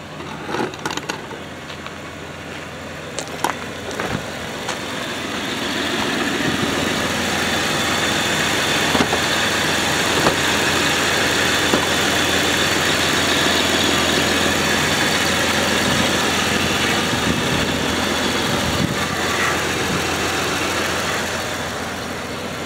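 A 2008 Chevy Impala with a 3.9 liter engine idles after being jump-started from dead batteries, a steady mid-pitched hum and rumble close by, preceded by a few brief clunks and rattles at the start.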